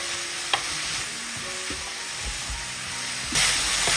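Vegetables frying in a hot pan for a quick evening snack, with a steady close sizzle under sporadic scraping strokes of a spatula, the hiss swelling louder near the end.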